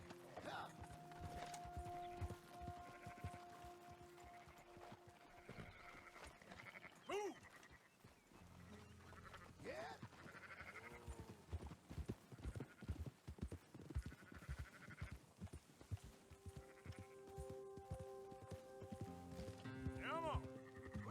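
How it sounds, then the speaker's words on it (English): Hooves clip-clop steadily through a Red Dead Redemption 2 ride while a herd of sheep bleats intermittently and a horse snorts, with someone talking over the scene throughout. "Come on, you dumb sheep."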